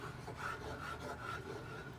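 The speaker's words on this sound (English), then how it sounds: "Scrape all the sides" A spatula scrapes the sides of a container of thick cold-process soap batter, giving a soft, steady rubbing rasp that stays close and quiet, with no voices.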